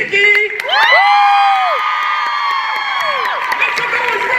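Convention panel crowd at San Diego Comic-Con cheers, screams and applauds for a voice actress, a loud sustained roar of high-pitched shouts and clapping through the whole stretch.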